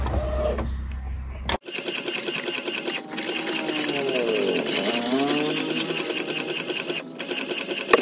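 A printer runs continuously while printing a sublimation design for mug printing, a busy mechanical whir with rhythmic head passes, close and steady after an abrupt start, no talk.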